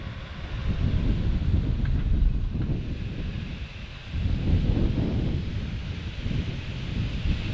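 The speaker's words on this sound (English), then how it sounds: "It's actually really quite windy." Strong wind blows steadily across an outdoor farm yard, roaring and buffeting the microphone in continuous gusts, with a brief lull midway and no voices.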